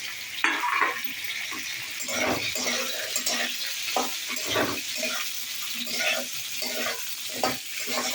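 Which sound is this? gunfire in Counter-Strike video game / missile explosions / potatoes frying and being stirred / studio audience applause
potatoes frying and being stirred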